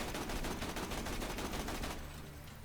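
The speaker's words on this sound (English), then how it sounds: "This is a gun that you're bouncing the bullets off the floor to get that reflection with." Bandit assault rifle in Borderlands 2 fires a rapid, loud continuous burst of shots for about two seconds, the rattle then cutting off into a fading tail with no voices.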